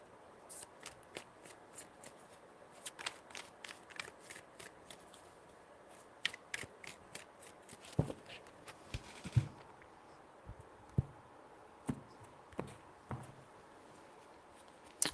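Tarot cards are shuffled by hand in a quiet room, giving soft riffling and rapid papery flicks with sharper taps and slaps at irregular intervals, faint and close, with no talking.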